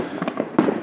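Fireworks bursting during a big Fourth of July display, a few muffled booms and crackles in quick succession with a sharp louder burst near the end, heard from a distance.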